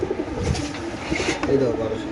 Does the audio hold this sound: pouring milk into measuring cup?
no